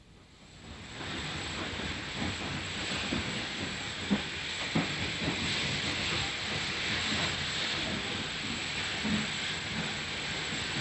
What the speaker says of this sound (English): the special train returns to Horsted Station